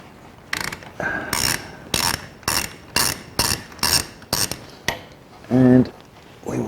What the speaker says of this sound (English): getting the trusty old T40, and we'll undo this one.